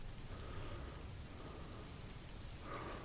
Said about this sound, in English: rain sounds in the back.